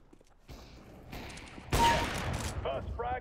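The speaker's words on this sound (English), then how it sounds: "Stop shooting at me" Call of Duty gunfire, a dense burst of shots in the middle of the clip, preceded by quieter game noise and followed by brief voice-like sounds.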